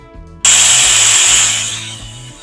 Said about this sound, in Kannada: ಒಂದು ವಿಷಲ್ ಹೊಡೆಸ್ಕೊಳ್ತೀನಿ.